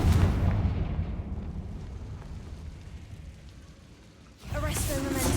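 A Confringo fire spell bursts in Hogwarts Legacy, a loud booming blast that decays into a long rumbling tail before a second sharp burst of energy near the end.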